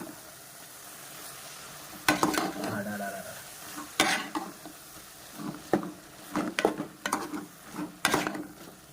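A spoon scrapes and stirs thick mushroom gravy in a pan, with scattered clinks and scrapes of utensil on metal over a soft simmering sizzle, growing busier and more frequent toward the end.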